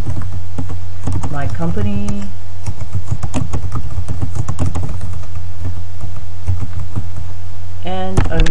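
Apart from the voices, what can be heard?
typing on a computer keyboard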